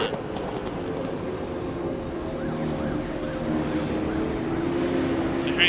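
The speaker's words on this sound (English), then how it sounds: "I'm hearing another car in the pit lane." A Super 2 race car runs in the pit lane at a night round in Sydney, a steady engine drone with a rising and falling tone heard under a continuous broad rumble of track noise.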